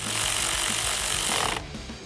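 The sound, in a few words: reinstalling the nut on the battery terminal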